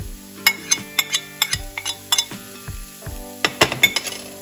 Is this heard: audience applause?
no